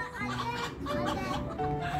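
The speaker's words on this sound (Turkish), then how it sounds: "Keçi de tavukları kovalıyor." Chickens cluck and squawk in a garden as a goat chases them, a busy mix of short calls close by, with a person's voice and laughter mixed in.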